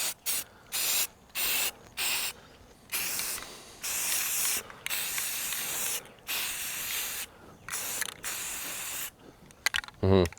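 Spray paint on a steel target rack comes in repeated hissing bursts of a second or so, separated by short pauses and can rattles, loud and close with no talk.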